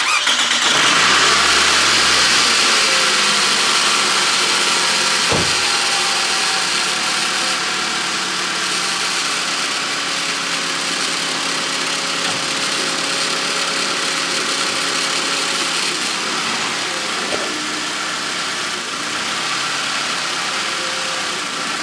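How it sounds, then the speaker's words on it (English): A car engine cranks, catches and settles into a steady idle during an oil pressure check, the loud mid-range hum holding evenly for the rest of the stretch with a brief transient partway through. "So now we're going to go ahead and turn on our vehicle."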